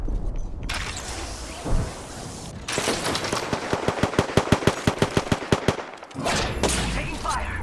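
Rapid automatic gunfire in the Apex Legends video game, a burst of about a dozen evenly spaced loud shots striking the player, framed by game ambience and brief voice lines before and after.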